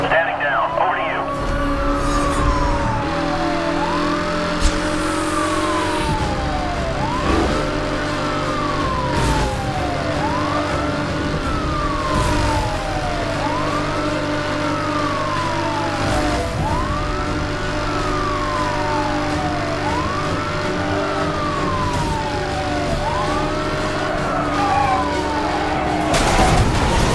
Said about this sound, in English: The interceptor unit is on scene and engaging pursuit.